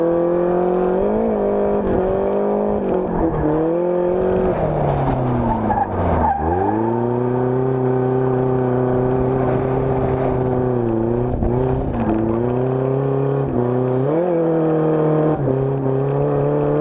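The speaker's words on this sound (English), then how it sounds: "that's me like at a standstill with a KA in second gear, roasting tires" Loud, continuous tire squeal and engine roar from a KA-engined drift car sliding and spinning in second gear, with pitch dipping and rising as the revs change; no voices.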